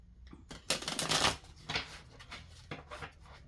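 A deck of tarot cards is shuffled close by in a few quick riffling bursts, crisp papery flutters separated by brief pauses, with no talking over them.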